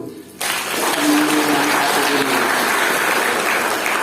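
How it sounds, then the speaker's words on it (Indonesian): A seminar audience breaks into steady, dense applause that starts abruptly and carries on evenly to the end, close and loud. "Applause dulu"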